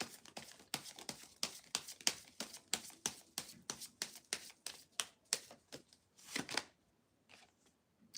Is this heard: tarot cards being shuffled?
yes